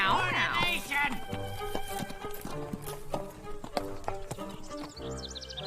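A stubborn cartoon donkey's hooves clip-clop in a steady walking rhythm, close and fairly loud, mixed with a cartoon music score and voices talking over it.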